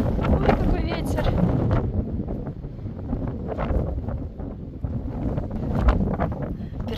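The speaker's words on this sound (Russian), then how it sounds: "Ой, какой ветер." Strong, cold morning wind gusts buffet the microphone outdoors in Ireland in winter, a continuous low roar with rising gusts, while people talk over it.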